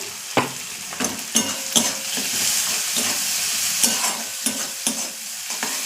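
Onions fry with salt in a pan: a continuous close sizzle under repeated scraping strokes of a spoon stirring them, a sharp scrape roughly every half second.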